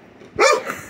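A dog lets out a single short, startled bark close by indoors, reacting to a homemade percussion cap going off.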